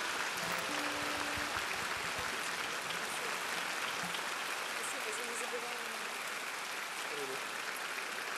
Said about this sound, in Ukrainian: ваші неймовірні оплески